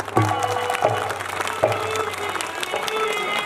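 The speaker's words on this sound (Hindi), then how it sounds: "एक बार जोरदार ताली बजाएं।" Audience applause at an outdoor Ramleela performance, a sustained wash of many hands clapping with a few sharper claps standing out over a low steady hum.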